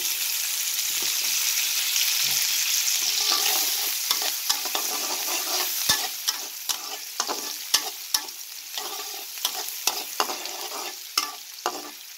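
Four onions fry in a little oil while being stirred, a constant bright sizzle broken by repeated scraping clicks of a spoon against the pan, growing more rhythmic toward the end, with no talking.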